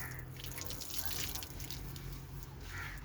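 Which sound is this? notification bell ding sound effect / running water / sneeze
running water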